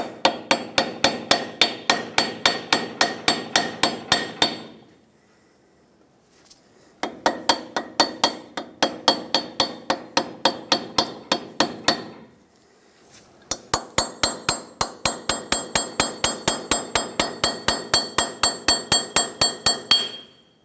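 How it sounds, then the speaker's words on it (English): A screwdriver or chisel is struck repeatedly to pry the hub cap off a 1996-2002 Toyota 4Runner wheel hub, in three long runs of rapid, evenly spaced metallic taps separated by short silences, loud and close. "you can just use a screwdriver or a chisel, whatever you have. Basically, you want to get in this lip here, try to separate the cap from the hub"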